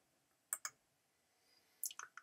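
Computer mouse clicks in image editing software: one quiet double click, then a second cluster of sharp clicks about a second later, close and alone against near silence.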